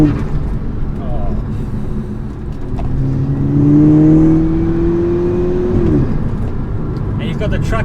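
A 350 BHP VW GTI accelerating on its first drive, heard from inside: the engine note climbs steadily through a gear under constant road rumble, then drops at a shift, with a voice talking over it.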